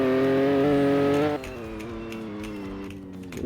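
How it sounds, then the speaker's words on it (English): A tuned BMW G80 M3 in a racing game on the Nürburgring drones loud and close, its engine pitch holding high, then dropping after a shift and easing lower. "The car is so loud I can't even hear myself."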